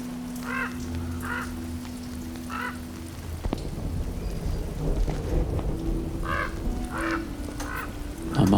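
Rain falling outdoors, a steady soft patter with a deep rumble, while crows caw in repeated bursts near and far.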